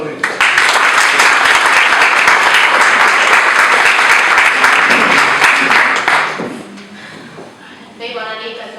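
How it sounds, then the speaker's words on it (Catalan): Strong, dense applause from an audience at a candidacy presentation event, loud and sustained for about six seconds before tapering off as a voice begins. "Fort aplaudiment."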